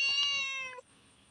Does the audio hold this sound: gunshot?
no